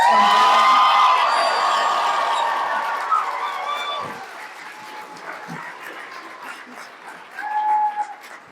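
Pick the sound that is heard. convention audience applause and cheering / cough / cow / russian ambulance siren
convention audience applause and cheering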